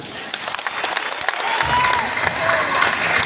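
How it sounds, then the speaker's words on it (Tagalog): An audience claps and cheers for performers on stage at a business launch event, building into a full, sustained round of applause with scattered whoops amid the crowd noise. "Tingnan sila ng umulang palakpak."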